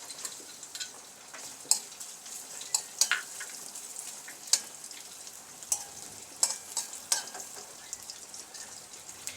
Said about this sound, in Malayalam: തേങ്ങാക്കൊത്ത് ഒന്ന് വറുത്തെടുക്കാം നമുക്ക്